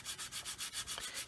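A coarse sanding stick rasps over a 1/144 scale plastic model of a C-141B Starlifter in quick back-and-forth strokes, about seven even passes, close and quiet with no voices.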